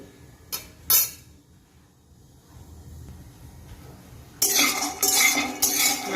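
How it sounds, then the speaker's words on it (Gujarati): Peanuts being stirred while roasting in a pan, with a couple of sharp scraping clinks, a quiet stretch, then a louder run of rattling, gritty scraping strokes. "આપણે ત્રણ મિનિટ માટે સિંગદાણાને આપણે શેકી લઈશું"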